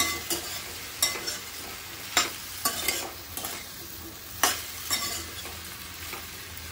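Sweet potato pieces with rock salt stirred quickly in a frying pan: repeated scraping clatters of the spoon against the pan over a continuous low sizzle, close by, roughly a dozen uneven strokes.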